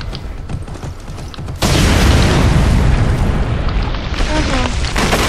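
Grenade explosion in the shooter game Ghost Recon: a sudden loud boom breaks in after a moment of background game noise, followed by a sustained roaring blast that fades slightly.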